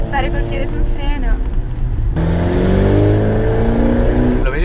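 A Ferrari engine drones from inside the car on a drive, shifting from a choppier note to a steady, rising hum after a gear change. People talk throughout over the engine.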